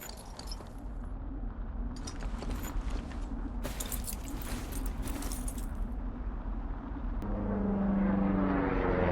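A propeller airplane drones steadily overhead in the wilderness of the video game Firewatch, a continuous engine hum that swells louder toward the end, with faint rustling and clicks mixed in.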